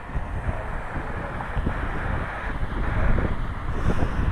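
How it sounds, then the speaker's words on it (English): Gusty wind buffeting the microphone at Cleveland Hopkins airport, a low, rough rumble that swells and eases throughout without any talk. "Definitely a little on the windy side today."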